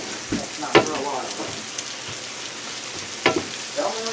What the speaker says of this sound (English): trying to caramelize the mushrooms and onions a little bit here